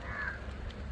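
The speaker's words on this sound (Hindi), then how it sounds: "गंगा में मस्ती मारते परिंदे, और माइग्रेटरी बर्ड्स हैं, बहुत दूर से आएंगे।" Migratory birds over the Ganges give a brief, faint cawing call against a low, steady outdoor rumble.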